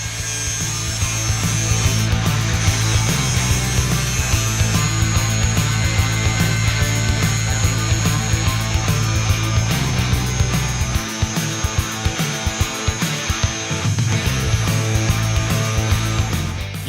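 A CGW Abrasives 3-in-1 wheel grinds steadily on a power tool at a 30-degree angle, a loud continuous abrasive whine with a low motor hum that dips briefly near the end before resuming.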